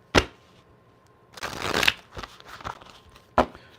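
A deck of tarot cards is shuffled by hand in a few quick riffling bursts with a sharp snap at the start and end, close and clear in an otherwise quiet room.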